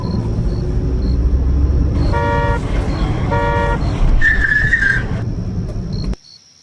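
A cartoon car drives off in a rushing roar, with several short horn toots along the way, before the sound cuts out abruptly near the end.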